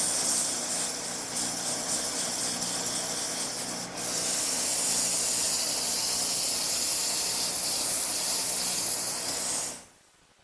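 Sandpaper rubs against a table leg spinning on a wood lathe, a loud, steady abrasive hiss over the motor's hum that briefly dips, returns brighter and then cuts off abruptly near the end.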